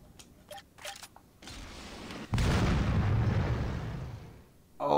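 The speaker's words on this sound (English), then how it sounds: "So I knew they were gonna have a rocket launcher" A rocket launcher blast in Saints Row: a few sharp shots and bangs, then one big explosion erupts into a sustained, loud roaring rumble that slowly fades, with another burst at the very end.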